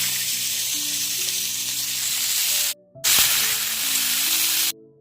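Vegetables such as potato and onion fry in hot oil seasoned with cardamom, cloves, cinnamon and bay leaves, a loud continuous sizzle broken by two brief pauses, with a light clink in between.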